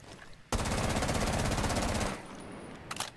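Sustained automatic rifle fire in Rainbow Six Siege on a shooting range at ten meters, a loud continuous burst of rapid shots lasting about a second and a half, followed by a few fainter clicks and clatters.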